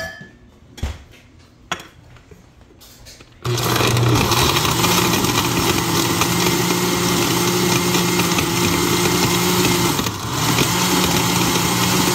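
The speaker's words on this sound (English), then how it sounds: "I like to just try to blend it little bits at a time so it doesn't get stuck." A countertop blender purees raw chicken chunks for homemade dog and cat food, its motor kicking in after a few seconds of quiet clatter and then roaring loudly and steadily, with a brief dip near the end.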